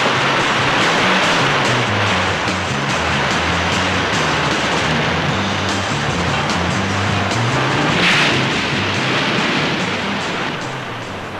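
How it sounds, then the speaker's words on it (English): Ocean waves breaking in Hawaiian surf, a loud, continuous broadband wash of churning water with a brief louder surge near the end, no voices. "Note the breaking of these waves as Skipper Bat seems to glide easily through the sections."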